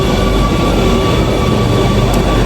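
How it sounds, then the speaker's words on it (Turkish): A metro train in Amsterdam roars steadily close by, a continuous loud rumble with a faint high whine, no voices. "Metro geliyor."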